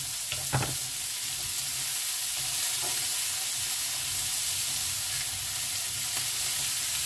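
Potatoes and mushrooms fry in a pan with about 20 grams of butter, giving a steady, dense sizzle that runs throughout at an even level, with no talking.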